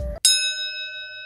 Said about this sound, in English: let's ring that bell and let's start today's pack battle